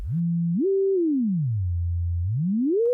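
Pure sine tone from a self-oscillating Leapfrog Filter module holds a low note, jumps higher, glides down to a deep hum, then slides back up, loud, clean and alone throughout.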